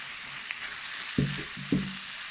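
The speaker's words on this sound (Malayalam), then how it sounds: "ഇനി നമുക്ക് ഇതിലേക്ക് വറുത്ത് വെച്ചിട്ടുള്ള ചെമ്മീൻ ഇടാം." Fried prawns tipped into a hot pan with soy sauce, two loud sizzling bursts of frying and stirring over a steady background hiss, no voices.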